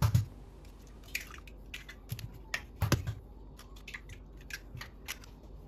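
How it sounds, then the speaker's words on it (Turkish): Three eggs cracked into a bowl for cake batter, heard as a few sharp, close taps and cracks with quiet gaps between them in a quiet kitchen. "Hamuru için 3 adet yumurtayı uygun bir kaba kıralım."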